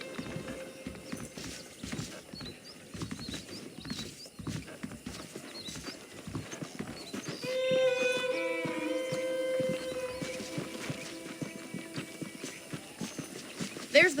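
Horse hooves clip-clopping at a steady walking rhythm in Red Dead Redemption, with occasional snorts and a whinny, while a voice talks and light game music swells in the second half.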